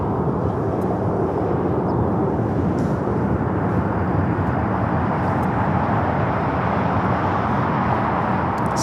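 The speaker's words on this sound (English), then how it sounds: "Of course, we have EVA, the 777-300ER heading to Taipei." An EVA Boeing 777-300ER takes off from LAX bound for Taipei, a loud, sustained roar of jet engines with broad rumbling noise that holds steady throughout, no voices over it.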